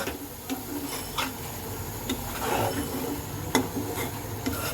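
Masala with cashew and almond paste being stirred and sautéed in a pan for a potato curry, giving a quiet rasping scrape of a spatula against the pan at an irregular pace, with faint clicks and no talking.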